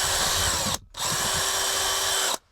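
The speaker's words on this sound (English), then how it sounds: "it's a little threaded insert that rivets into place using this riv nut puller tool" A power tool sets a threaded riv nut insert into a thin motorhome wall with a riv nut puller, running as two loud sustained bursts with a brief pause between them and no talking.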